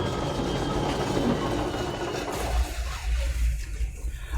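A moving train in the game Control rumbles along with a steady rattling rush, the clatter thinning as a deep low throb rises toward the end; no voices.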